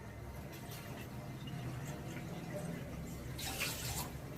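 Water is poured into a pot of sugar for rasgulla syrup, two bowls of water to one of sugar, a steady close splashing and gushing that swells near the end, with no voices.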